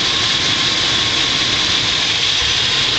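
A 1998 GMC K1500 Z71 extended-cab pickup with the old-style 350 Vortec V8 and 276,000 miles idles with the oil cap off, a steady, close, even rumble with a broad hiss on top, no voices.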